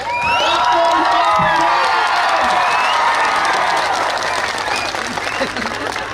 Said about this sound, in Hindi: अपने आप के लिए ताली दीजिए।